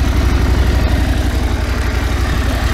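A Husqvarna Norden 901 motorcycle engine running close by, a loud, steady, throbbing rumble with a fast even pulse and no break.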